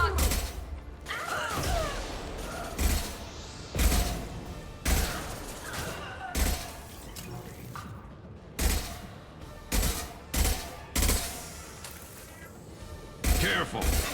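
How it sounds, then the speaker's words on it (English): Sci-fi gunfire in the game Mass Effect 2, with sharp repeated shots and impacts in irregular bursts throughout, loud and close, while characters and a commentator speak between the volleys. "They've seen us. I'm taking fire."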